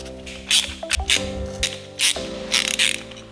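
Five nuts being hand-tightened onto the sprocket of a Hartford 223H motorcycle: close metallic clinks, scrapes and ratchet-like clicks in short bursts against a low background hum.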